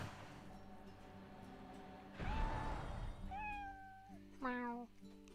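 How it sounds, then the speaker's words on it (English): A cat meows in the video game Lord of the Rings Online, two clear drawn-out meows, the second higher and shorter, following a brief rustling burst over a low steady background hum. "there's no reason to not say use cat speech here"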